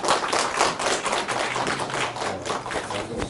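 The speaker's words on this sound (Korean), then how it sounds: "박수로 맞아주시죠." An audience of parents claps to welcome a speaker at an academy's university admissions briefing, a steady, dense patter of many hands that holds at an even level for a few seconds with no talking.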